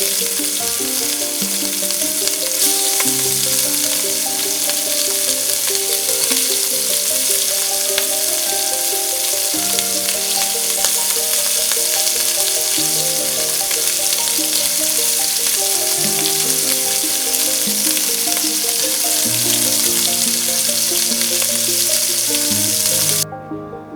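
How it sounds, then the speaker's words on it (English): Smoked sausage sizzles steadily in olive oil in a cast iron Dutch oven, a loud, continuous frying hiss with dense crackle that holds for the whole stretch and cuts off abruptly at the end. "We put the sausage in and we can hear it sizzling."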